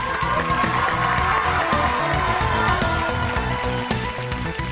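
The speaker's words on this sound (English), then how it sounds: "A huge round of applause for Aman." Audience applause at a televised spelling bee, a steady, dense wash of clapping from a large crowd that holds evenly throughout and fades slightly at the end.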